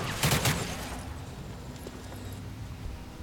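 Gunfire in XCOM 2, a quick cluster of sharp shots at the start, then a low steady ambience with faint clicks.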